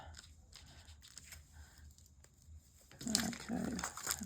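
Scissors pick at and lift adhesive gems off decorative card: a few quiet snips and crinkles spaced apart, followed by someone talking close by.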